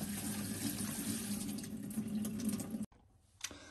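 A sink tap runs in a steady, close stream while a fridge part is rinsed under it, then the flow cuts off abruptly near the end, leaving brief faint handling sounds.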